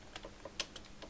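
Keys clatter on a computer keyboard as text is entered into an invoice in MS Word. About eight quick, close taps come in an uneven rhythm, with one sharper click near the middle.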